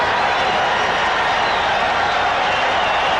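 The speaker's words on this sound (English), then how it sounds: "Listen to the crowd." A dense roar from a baseball stadium crowd at a 1978 World Series game between the Yankees and Dodgers, loud and continuous, a wash of cheering with no distinct voices.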